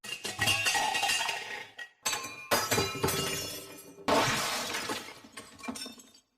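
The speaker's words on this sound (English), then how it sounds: "you hear this sort of loud clattering noise of sort of wrenches, tools, and metal" Loud metallic clattering and crashing of wrenches, tools and scrap metal, arriving in several heavy bursts with short gaps between them, sharp and jangling like falling hardware.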